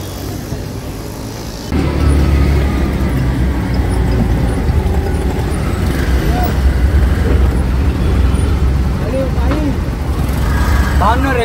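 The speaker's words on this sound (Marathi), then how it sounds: "आता मी रिक्षाने चाललोय" An auto rickshaw ride: after a quieter start, a loud, steady engine rumble and road noise kick in close by and continue, with passing traffic and faint voices mixed underneath.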